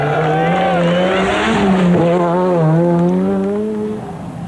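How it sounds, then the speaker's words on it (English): A 1987 Ford Sierra RS Cosworth rally car on a Circuit of Ireland stage revs hard and loud close by, its engine note rising and falling through gear changes over a faint background voice. "McRae's Cosworth was still hopping all over the road"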